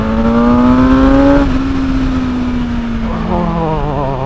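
A BMW M1000R naked motorcycle's engine pulls hard with a loud, steady induction drone whose pitch climbs, then eases and drifts lower before rising again, heard up close and alone.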